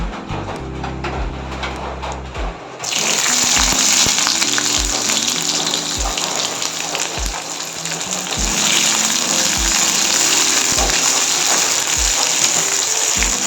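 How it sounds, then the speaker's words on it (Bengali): Raw onions fry hard in a hot pan with steady, loud close-up sizzling that swells after a softer opening few seconds, with faint knocks of a utensil against the pan underneath. "এবার পেঁয়াজটাও ভালো করে লাল লাল করে ভেজে নেব।"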